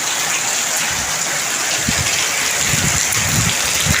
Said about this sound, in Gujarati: તો જો આવો કંઈક વરસાદ આવે છે અમારા ગામમાં.